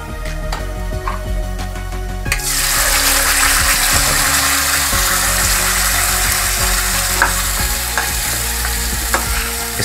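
Ground soybean hits hot oil in a kadhai and bursts into a loud, dense sizzle that holds steady at close range, with a spatula scraping and tapping as it is stirred.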